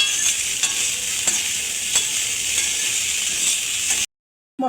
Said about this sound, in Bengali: মশলাটা ভালো করে নেড়েচেড়ে মিশিয়ে নিয়েছি